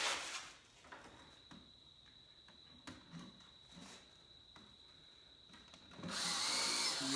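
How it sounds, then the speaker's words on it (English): A power drill boring holes during a saw table rebuild, with short whirring bursts between quiet handling noises, then a louder sustained run near the end. "All we got to do, drill a couple of holes"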